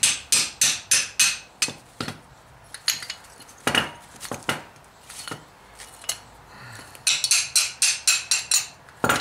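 Sharp metallic hammer blows during a rear brake replacement on a 2015 Toyota Corolla S ring out in quick bursts, several rapid strikes in a row, then scattered hits, then another fast run of clanging taps, close by.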